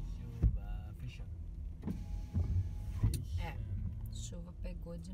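Car power windows whir shut in the rain, several motor hums in quick succession inside the vehicle, with steady rain noise beneath and people talking in Portuguese throughout.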